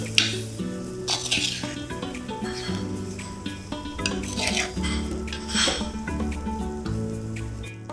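Seasoned fish being stirred into a Sri Lankan-style fish curry in a pot, with steady scraping and clinking of a spoon against the pot and a soft sizzle underneath, continuous and close, with no talk.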